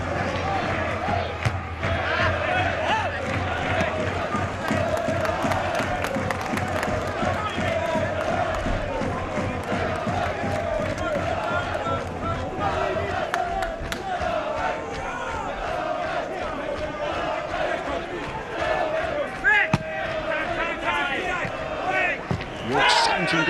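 A football crowd at a York City versus Fleetwood Town match roars steadily throughout, a dense continuous wash of cheering and chanting urging their team on, heard from above the stands.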